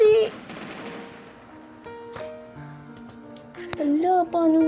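Gunfire from the Roblox Brookhaven game sounds as a loud burst of rapid shots at the start, followed by quieter game tones and sporadic effects. Voices speak over parts of it.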